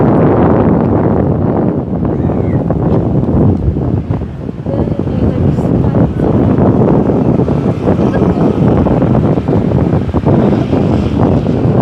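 Strong wind by the sea buffets the microphone in a loud, continuous roar that barely eases for the whole stretch, burying any surf or other detail.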